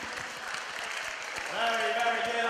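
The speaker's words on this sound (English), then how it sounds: "give yourselves a big clap" Children clapping together on cue in a group activity, a short burst of scattered applause that swells near the end, alongside an adult voice.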